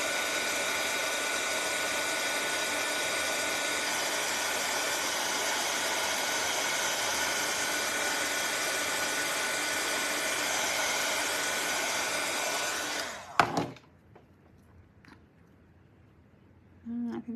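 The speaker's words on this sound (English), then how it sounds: "I'm gonna run the dryer again real quick on these" Handheld dryer blowing on craft gnome parts gives a loud, steady whooshing roar for about thirteen seconds, then cuts off abruptly with a clunk, leaving near silence and faint handling sounds.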